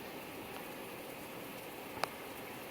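Steady broadband hiss of rain pouring down outdoors on a very hot day, dense and continuous with a single sharp tap or drip standing out partway through; no talking.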